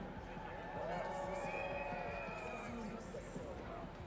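A crowd cheering at a Whistler ski rail jam, a broad, steady roar of outdoor voices and whistles that swells slightly after the first second and holds under an announcer talking throughout.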